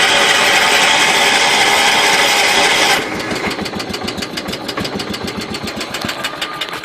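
A John Deere JD 210 lawn tractor that has sat for a week and just had its carburetor rebuilt, loud steady cranking for three seconds, then catching into a rapid chugging, knocking idle close by.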